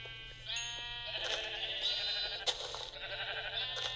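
Sheep in a video game bleating, several harmonic bleats overlapping close by against a low steady hum, no talk.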